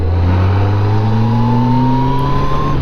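A Yamaha FJR1300 motorcycle engine accelerating hard, a loud smooth rising drone climbing steadily in pitch through the gear, close and continuous, no talk.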